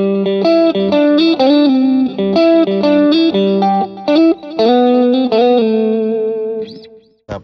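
Electric guitar played through the diamond amp model of a BOSS IR-2 simulator, a driven, slightly distorted tone picking a busy rhythmic riff with chords, loud and close, ending in a short fade and a brief noise.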